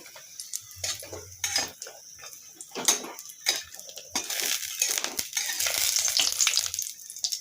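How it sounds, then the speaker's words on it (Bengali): Lentil dumplings (bori) dropped into hot oil in a wok, with clattering metal-on-wok knocks and spoon scrapes over a bubbling sizzle that swells toward the end. "কড়াইয়ে তেল দিয়ে ভালো করে গরম করে নিয়েছি এবার এই তেলের মধ্যে বড়িগুলো দিয়ে দেবো"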